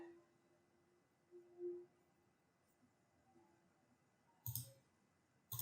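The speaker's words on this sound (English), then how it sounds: "I'll click on stop" Two sharp computer mouse clicks on a quiet desk while operating Data Physics SignalCalc 900 recording software, the first about midway and the second at the very end, close and crisp against faint background hum.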